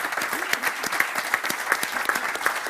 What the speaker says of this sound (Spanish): yo quiero pedirles un aplauso para este hombre valiente